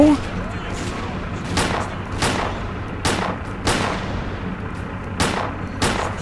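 Repeated gunfire from the PC shooter Stalker Clear Sky: seven or eight sharp, loud single shots at uneven intervals of about a second, each with a short decaying tail over a steady low rumble.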